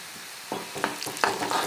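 Chopped shallots and dried red chillies frying in a pan, a continuous close sizzle broken by repeated scraping stir strokes every fraction of a second.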